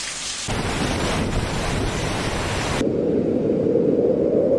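Heavy rain pours down in a dense, loud wash while thunder rolls through it, then the downpour continues as a steady hiss.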